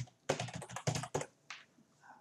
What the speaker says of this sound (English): So we can type this in